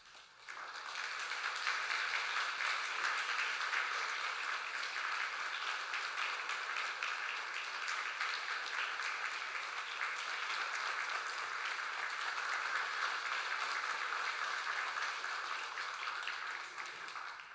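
A church congregation in Samcheok applauds during a Sunday service, a broad, sustained wash of many hands clapping that swells quickly and holds steady for over fifteen seconds before easing slightly.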